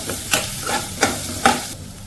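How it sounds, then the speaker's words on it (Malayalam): Ginger garlic paste being stirred into frying onions in a pan, with about four distinct scraping strokes of a spoon over a steady close sizzle, no voices. "ഇതിന്റെ പച്ചമണം മാറുന്നോളം വരെ ഒന്ന് ചെറുതായിട്ട് ഇളക്കി കൊടുക്കാം."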